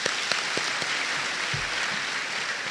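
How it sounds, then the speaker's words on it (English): An audience at a school renewable energy competition gives steady applause, with a continuous hiss of many clapping hands and a few louder close claps standing out. "I believe they deserve another round of applause."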